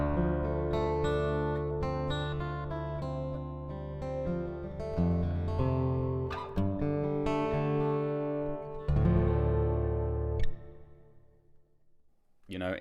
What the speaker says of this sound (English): You'll be able to hear what the pickup sounds like.